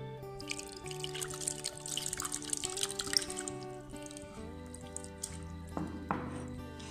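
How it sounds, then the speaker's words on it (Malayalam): Soaked tamarind is squeezed and its juice poured into a Kerala fish curry, with soft trickling and dripping of liquid over quiet background music. "ചാറൊന്ന് പിഴിഞ്ഞ് ഒഴിക്കാം."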